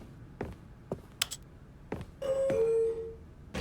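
A two-tone doorbell chime rings once inside the video game The Stanley Parable, a clear ding followed by a lower sustained tone, standing out between sparse clicks and taps.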